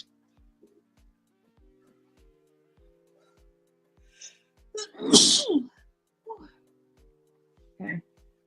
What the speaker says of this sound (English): Oh, it's gonna make me sneeze.